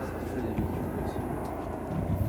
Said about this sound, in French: Il y a l'hélicoptère qui tourne, s'il vous plaît. Il arrive par ici, en plus,